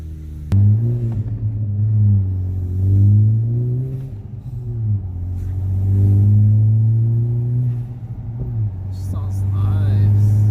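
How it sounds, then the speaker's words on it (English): A 2020 Honda Civic Si with a MAPerformance exhaust drives along, its engine droning low and steady as it rises and falls with throttle, heard from inside the cabin. "See how the car sounds."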